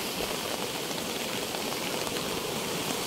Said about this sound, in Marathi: रात्रभर पाऊस चालू आहे